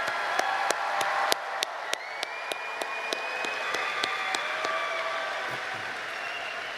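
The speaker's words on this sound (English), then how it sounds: "Let's give our graduates a round of applause." An audience at a high school graduation ceremony in Wilkes-Barre claps for the graduates. Scattered sharp claps open into a steady, moderate round of applause heard from within the hall, with no one speaking.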